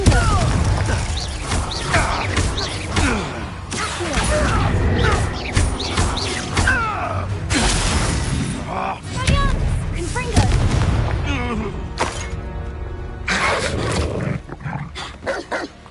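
The Confringo fire spell from Hogwarts Legacy on PS5 explodes repeatedly in loud, booming blasts amid dense, continuous game combat effects.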